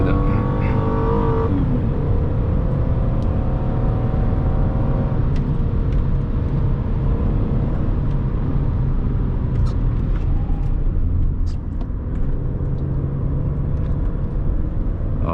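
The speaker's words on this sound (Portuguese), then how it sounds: "Agora eu vou acelerar até cortar" A 2009 Hyundai Azera with a 3.3-litre V6 accelerating hard uphill toward the rev limit, a loud steady engine roar with rumble that holds throughout, close up from inside the car.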